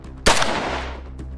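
A single loud gunshot from a third-person survival shooter game, Remnant: From the Ashes, with a sharp blast and a long decaying tail, followed by a faint second report.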